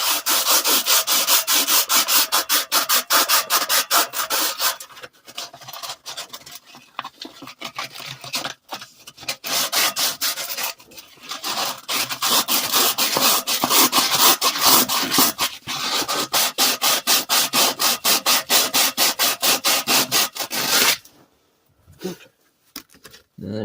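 Abrasive rubbing and scraping on the rough cut edge of a steel tailpipe on a 1998 Ram 1500, fast steady back-and-forth strokes running nearly continuously, close and loud, with a brief pause before stopping near the end.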